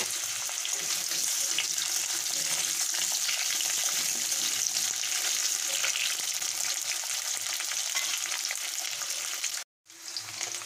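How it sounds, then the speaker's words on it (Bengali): Potatoes fry in oil in a pan for a Bengali village-style prawn and vegetable dish, producing a steady, even crackling sizzle that continues throughout and cuts out briefly near the end before resuming. "আলুটা ভাজা হয়ে গেছে,"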